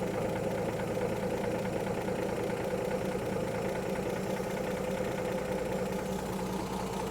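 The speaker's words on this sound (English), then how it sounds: "Listen to the motor as I line it up." Car engine idling steadily while the ignition timing is adjusted at the octane selector, a continuous close rumble with a low rhythmic knock that shifts slightly partway through.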